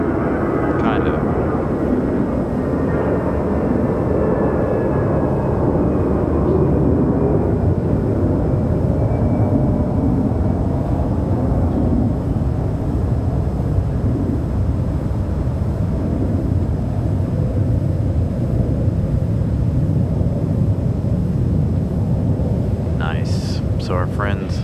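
A jet airliner departs from Raleigh-Durham International Airport, its engines making a loud, broad, continuous roar that slowly shifts in pitch as it climbs away, heard from outdoors with no talk over it.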